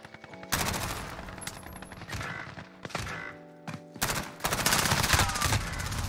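Mini MP5 submachine gun fire in a first-person shooter game: several rapid, loud full-auto bursts separated by short gaps, with the final burst running longest.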